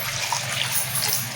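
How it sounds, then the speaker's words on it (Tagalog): Coconut milk poured into a cooking pot for arroz valenciana, a steady soft liquid pour running unbroken and close by, with no voices. "Tapos, ilagay na natin ang gata."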